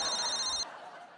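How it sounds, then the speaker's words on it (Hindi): A telephone rings with a steady electronic tone over a background of talk on a comedy stage, then cuts off abruptly partway through, leaving only faint room noise. "अभी फोन आ गया आपका।"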